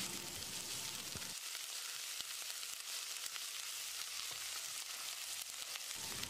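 Crushed garlic, ginger and fenugreek seeds sizzle steadily in hot oil in a pan for a mutton curry, a loud continuous crackle broken by a few soft clicks of stirring, with no talking.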